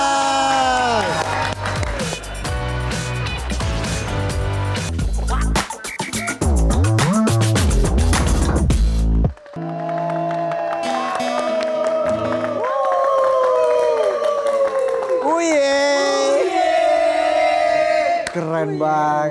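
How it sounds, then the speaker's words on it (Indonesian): Studio audience at an Indonesian late-night TV show, Midnight Live, cheering and clapping loudly for the band, rising strongly after the music and carrying on steadily nearby, alone without speech. "Kita berikan tepuk tangan sekali lagi."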